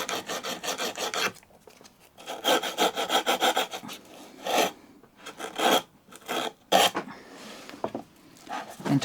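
Small rust-covered steel pin on a 1960s Marples pin marking gauge being rubbed with abrasive, a steady back-and-forth rasping scrape in bursts with short pauses, close and fairly loud, no talk.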